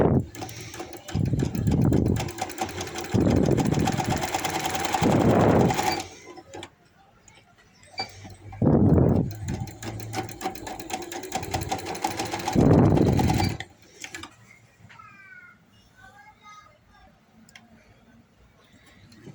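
A sewing machine stitches seams on a baby boy's hoodie in bursts of a few seconds each, its fast mechanical whir loud and close, with quieter pauses and soft handling noise in between.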